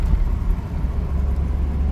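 Car driving along a newly rebuilt street in Alanya, Turkey, heard from inside: a steady, heavy low rumble of engine and road noise, close and continuous, with no voices.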